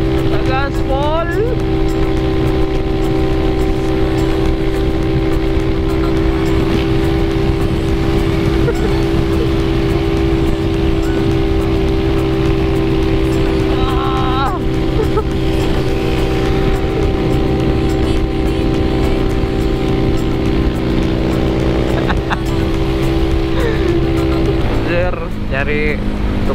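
A Yamaha Mio 130cc scooter emitting white smoke rides at full throttle on a road trip, its engine droning loud and continuous beneath heavy wind noise, while a rider talks over it.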